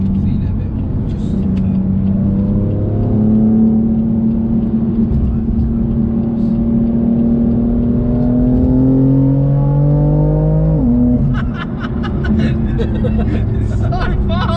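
A 700 BHP BMW M4 accelerates hard on an open road, heard from inside: the engine note climbs steadily in pitch through the revs, drops sharply at a gear change, then pulls again, loud throughout.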